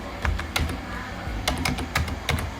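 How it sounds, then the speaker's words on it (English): Password being typed on a computer keyboard during Linux command-line work: clusters of sharp key clicks in uneven bursts, close and clear, with no talking. "So we can type the password."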